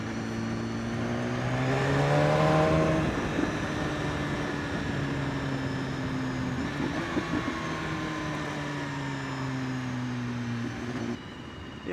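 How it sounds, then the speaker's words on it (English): A 2016 BMW S 1000 RR motorcycle engine whines steadily up and down in pitch as the bike accelerates and shifts, with continuous road and wind noise throughout. "there's a bit of an engine whine"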